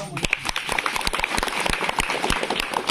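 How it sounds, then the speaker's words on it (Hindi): A crowd at a village council assembly in Basantpur, India, claps loudly and steadily, a dense burst of applause with some sharp individual claps standing out. "इसको एक बार जोरदार ताली बजा के"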